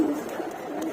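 Pigeons coo softly in a loft on bathing day, a low murmuring call under faint background noise, brief and mid-distance with no speech.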